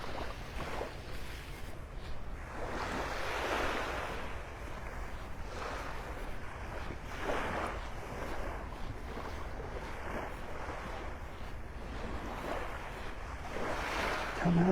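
Ocean waves rolling onto a beach on a morning walk, a steady wash of surf with swells rising and falling every few seconds, mixed with wind buffeting the microphone and no talking.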